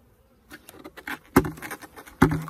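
Honey bees buzz around a hive feeder with pollen substitute, a close, busy hum broken by sharp clicks and knocks against the hive, with no talking.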